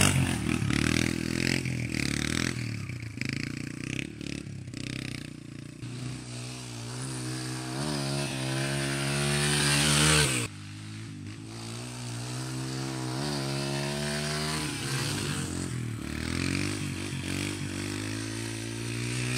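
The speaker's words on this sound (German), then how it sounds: "ich habe jetzt auf der Wiese ein bisschen demonstriert, was es bedeutet, einen Schräglagen-Willi zu fahren und vor allem zu lenken übers Hinterrad" A motorcycle revs hard on a meadow while holding a lean-angle wheelie steered over the rear wheel, its engine whining at high revs, dropping sharply midway and then climbing again in a loud, sustained near drone.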